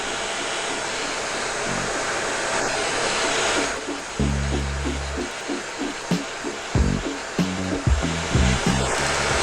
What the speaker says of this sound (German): mit dem Föhn hier ein bisschen wandern.